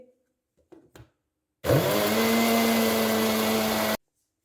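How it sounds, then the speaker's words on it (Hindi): An electric blender whirring sugar and oil for an orange cake: a few soft clicks, then the motor starts abruptly and runs at a steady loud high-pitched whine for about two seconds before cutting off sharply. "अब हम इसको दोबारा से ब्लेंड कर लेंगे"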